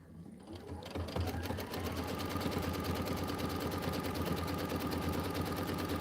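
An embroidery sewing machine runs a tack down line on a Kimberbell Let it Snow pillow border, a steady fast rapid stitching chatter starting after a brief quieter lead-in and continuing evenly, close and loud.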